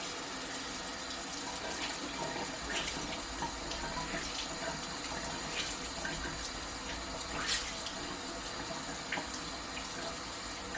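Tap water runs steadily into a sink to wet a makeup beauty sponge, a continuous close splashing flow with small irregular spatters and one brief louder splash near the end, no voices.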